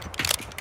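A weapon reloads in Call of Duty: Modern Warfare II, a short burst of mechanical clicks and a magazine clack, close and crisp, heard alone with no voices.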